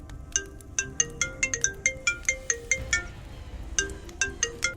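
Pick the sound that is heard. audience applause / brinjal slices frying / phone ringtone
phone ringtone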